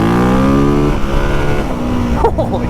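A new dirt bike engine in power mode 3 revs hard and close, holding a high, buzzing pitch that then drops and wavers. A voice comes in briefly near the end.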